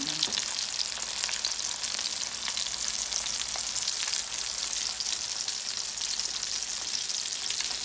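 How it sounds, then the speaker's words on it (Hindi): Beef kebabs made without egg fry in a pan over a low-to-medium flame, giving a steady, close, continuous sizzle and crackle that lasts throughout with no talking. "बगैर अंडे के फ्राई कर रही, चूल्हा बिल्कुल लो और मीडियम के दरमियान में।"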